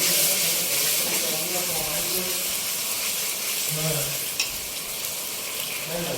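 Red chili sauce fries in a pan for chicken 65, with a steady bright sizzle and hiss and the scrape of stirring running continuously throughout, loud and close.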